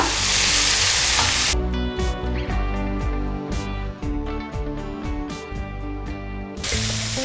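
Tomato masala with chili powder sizzles and hisses in a pan while being stirred for a crab curry. The loud frying is heard at the start and again at the end, with music playing over the long middle stretch.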